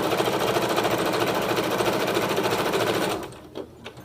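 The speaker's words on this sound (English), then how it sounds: "I will continue to sew down the length and back a little bit at the beginning" A sewing machine stitches ribbon down the length of a dog leash, running loud and steady with a fast, even mechanical rhythm for about three seconds before stopping, followed by a couple of faint clicks.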